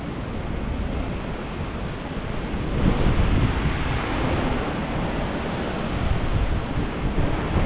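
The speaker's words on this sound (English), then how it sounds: "it's still very windy" Strong Hurricane Ian wind roaring outside an Orlando apartment complex, a continuous broadband rush that swells louder partway through and buffets the microphone, with no voices.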